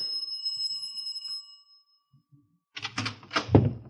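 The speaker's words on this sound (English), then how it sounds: "I rang the bell." A doorbell at a house's front door chimes a few sustained, fading tones, followed after a pause by muffled voices and shuffling behind the door.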